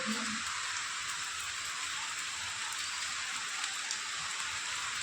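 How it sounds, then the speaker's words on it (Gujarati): Heavy rain pours down steadily outside, a constant dense hiss of drops with no let-up. "બહાર ફૂલ એટલે ફૂલ વરસાદ ચાલુ છે"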